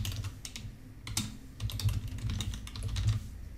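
Quick, uneven keystrokes clatter on a computer keyboard while an email address is typed, close and clear, with short pauses between bursts of clicks and no voices.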